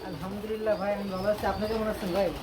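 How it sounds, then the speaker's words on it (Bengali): At a pigeon farm of about 130 to 150 pairs, pigeons give a series of close, throaty, rising and falling coos, repeated several times in quick succession. "মোটামুটি একশো তিরিশ থেকে দেড়শো জোড়া প্লাস কবুতরের খামার"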